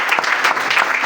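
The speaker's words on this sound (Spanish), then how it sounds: "Denle un aplauso a los cuervos." Audience applause at a church talk, a brief burst of dense clapping heard close and loud with no speech over it.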